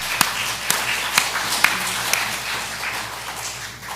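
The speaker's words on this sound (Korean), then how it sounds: "우리 김문숙 집사님에게 감사의 박수를 보내겠습니다" A church congregation applauding in thanks, a steady wash of many hands with a few sharper claps standing out, moderately loud and continuous throughout.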